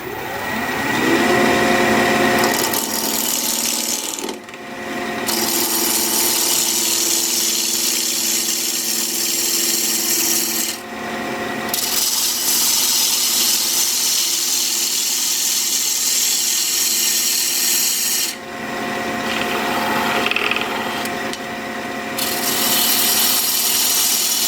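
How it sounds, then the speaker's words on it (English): A wood lathe spins a walnut bowl as a 1/2 inch bowl gouge cuts at 1200 RPM, giving a steady loud rushing scrape with a constant hum, broken by a few brief pauses, no talking. "We're going to be turning with a 1/2 inch bowl gouge."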